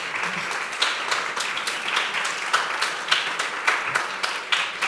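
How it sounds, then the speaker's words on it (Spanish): Audience applause at a public talk on the future of work, a sustained dense patter of many hands clapping that keeps a steady level with slight rhythmic pulsing throughout. "yo os agradezco los aplausos"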